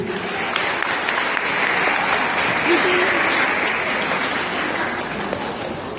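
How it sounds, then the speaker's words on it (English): A school audience applauds steadily at an event, continuous crowded clapping heard at moderate volume from start to finish. "A round of applause, please."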